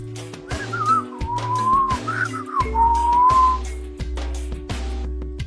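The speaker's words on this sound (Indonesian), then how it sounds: "bahkan dengan bersiul." A person whistles a wavering, sliding tune, fairly close, over a steady low hum and a few soft knocks.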